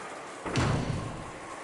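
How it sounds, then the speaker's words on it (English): A door is shut with a single soft, muffled thump midway, standing alone over a quiet room-tone hiss. "she closed the door and spoke"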